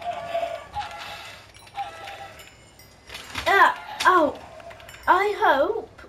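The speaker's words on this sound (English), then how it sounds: "Kill all these chickens!" Chickens clucking in the video game Minecraft, short bursts of fowl calls from the game heard among background game sounds, with a voice speaking over parts of it.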